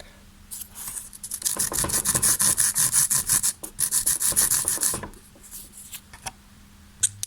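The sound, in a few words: filing the edge of a small cut piece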